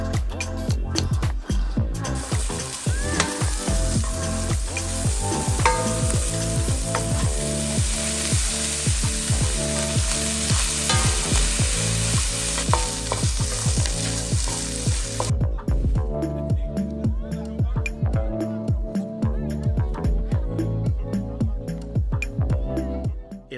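Dry roast pork tossed with Costco Korean fried rice in a hot pan gives a loud, continuous sizzle, with repeated scraping stirs beating steadily throughout and the hiss easing in the later part.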